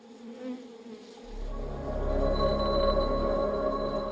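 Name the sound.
worker honeybees buzzing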